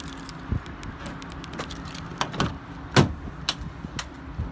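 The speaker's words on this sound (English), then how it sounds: "Okay, so I'm gonna open the door." A used vehicle's door is opened with a series of close clicks, light rattles and a firmer clunk of the latch and hinge, scattered over a few seconds without speech.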